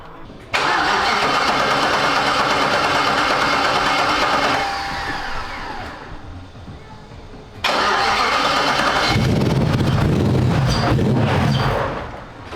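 A V8 engine in a BMW E36 cranks and catches, running loud and rough with an uneven misfiring idle, dies down, then fires again into another ragged, stumbling run close by.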